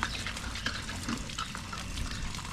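Water splashing and trickling as it is poured into a garden soil mixture in a backyard, a soft close gushing sound that runs steadily throughout.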